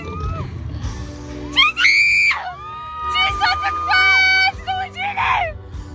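A large concert crowd of women screams and shrieks along with the performers, loud piercing high-pitched voices rising in waves over a low background roar.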